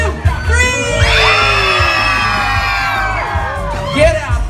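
A crowd of children at a Disneyland holiday dance party screams and whoops loudly together for several seconds, a sustained high-pitched roar that rises and then trails off.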